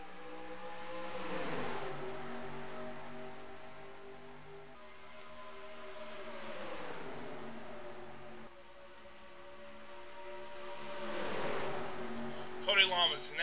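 Race cars roaring around Daytona in a racing video game, engines rising and falling in long sweeping passes with a commentator talking over the field.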